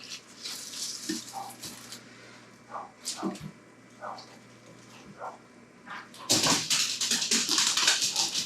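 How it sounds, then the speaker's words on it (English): Dogs bark at a home garden in scattered, moderately distant bursts, then a rush of water-like noise swells near the end. "The dogs are going off on something."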